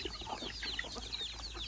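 Chickens on a Thai farm clucking and chattering in short overlapping calls, fairly close but soft, with a low steady background hum and no talk.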